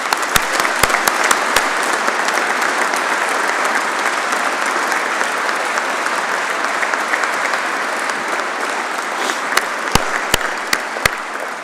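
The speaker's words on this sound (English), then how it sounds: "Please, another round of applause" Audience at the Corps of Royal Engineers Engineering Excellence Awards 2021 applauding a Hackett Award winner: loud, dense, sustained clapping from a large crowd lasting throughout, with a few sharp close claps near the start and end.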